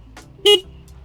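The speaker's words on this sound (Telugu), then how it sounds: "లౌడ్ హార్న్ ప్రొవైడ్ చేస్తున్నారు." A Honda SP 160 motorcycle's horn gives one short, loud beep, sounding close and on its own against a faint background.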